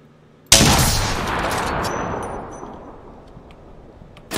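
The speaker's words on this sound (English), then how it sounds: "I'm taking fire." A single loud gunshot in the Apex Legends battle royale game cracks sharply near the start, followed by a long, slowly fading echo and a faint clank at the end.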